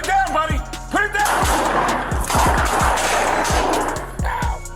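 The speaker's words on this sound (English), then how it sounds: "both men unleash gunfire" Rapid gunfire exchanged between a police officer and an armed man, a burst of many close, loud shots in quick succession with a shouting voice at the start.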